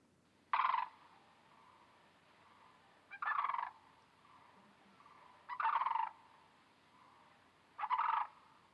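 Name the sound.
sandhill crane call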